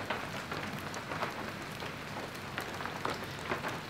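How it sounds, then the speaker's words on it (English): Steady rain falls outside a Viking-style cabin, a dense continuous hiss with scattered brighter drop splashes throughout, fairly close and with no voices. "I am here in my Viking cabin and looking out at the rain."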